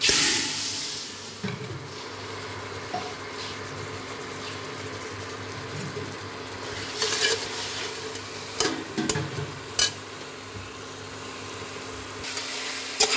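Mutton with masala and salt is stirred in a pot. A low background crackle runs throughout, broken by scattered scrapes and clinks of a spoon against the metal pot.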